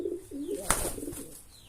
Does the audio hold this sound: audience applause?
no